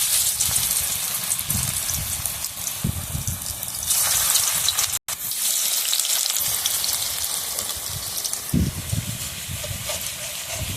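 Lote fish pakora batter dropped into hot oil, giving a loud, continuous, close sizzle and hiss throughout, with a brief dropout midway and stirring bursts near the end, no talk.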